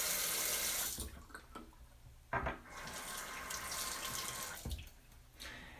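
Water runs from a tap into a sink in short bursts for a shaving lather, splashing and trickling close by with pauses between pours.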